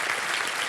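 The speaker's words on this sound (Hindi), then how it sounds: "ये देखिए, ताली बज जाए इनके लिए।" The studio audience of the quiz show Kaun Banega Crorepati Season 15 applauds in a brief, dense burst of steady clapping with no voices over it.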